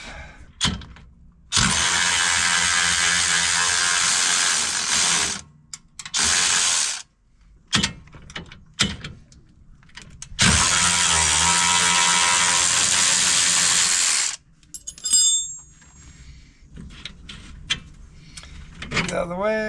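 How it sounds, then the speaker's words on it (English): Ratchet working bolts off a mangled trailing arm on a RZR side-by-side: two long, loud bursts of steady clicking, each a few seconds, separated by short gaps, knocks and brief pauses. "I'm gonna have to take these bolts off"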